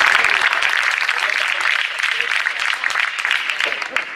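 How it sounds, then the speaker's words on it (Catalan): An audience at a political rally gives a sustained round of dense clapping, loud and close, holding steady for several seconds with a voice briefly audible over it. "Un altre aplaudiment per ell, sisplau,"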